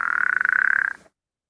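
Frog call of the type whose eggs are laid singly or in a cluster in wetlands, a loud, close, rapid pulsing trill lasting about a second before stopping abruptly, with no voices.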